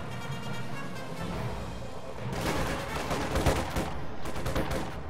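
Howitzer artillery barrage in a World War II style online battle game, with dense rapid booms and gunfire rising into a loud overlapping volley halfway through.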